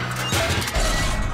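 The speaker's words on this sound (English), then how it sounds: "Lads, let's smash up this old pipe." Cartoon workmen smash up an old pipe while digging up a road: two loud, heavy crashing impacts, one near the start and another midway, each followed by rumbling debris, close and with no talk.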